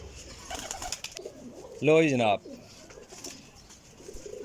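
A Salara Teddy pigeon gives a single loud, close coo lasting about half a second, with someone speaking briefly before it.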